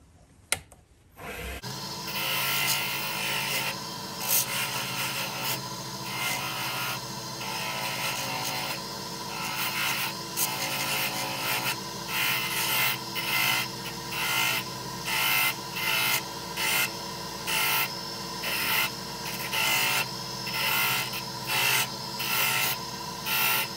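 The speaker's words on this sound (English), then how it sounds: "switching back to the wire wheel. I just want to remove that patina off the back end." A spinning wire wheel scrubs patina off the back of a spoon being made into a guitar pick, a steady gritty rasping whir with rhythmic pulses as the metal is pressed against it.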